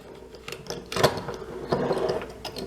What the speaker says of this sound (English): you can slide the action arm and bolt